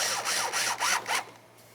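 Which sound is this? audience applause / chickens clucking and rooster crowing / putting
putting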